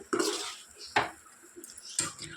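Potatoes for a cauliflower and potato curry are mixed in a pan, with a spoon clanking and scraping against the metal in three distinct bursts between quieter gaps.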